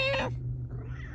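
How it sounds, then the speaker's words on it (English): A house cat lets out a short meow, then a low steady purr rumbles on close by. "oh, he's purring"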